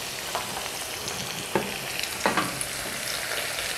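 Garlic and ginger frying in oil for a dal tempering, a steady close sizzle with a few brief crackling pops and stirring scrapes, no voices.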